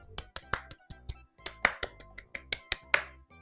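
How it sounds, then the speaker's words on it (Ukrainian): Hands clap in a quick, uneven series of about fourteen sharp, close claps during a children's finger-play game, with brief pauses between the bursts. "Оплески! Поплескай в долоні."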